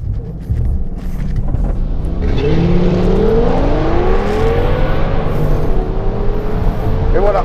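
An Audi S6 quattro on Toyo Proxes Sport all-season tires launches from a standstill, its engine rumbling loudly and rising in pitch through the gear as it accelerates, heard up close.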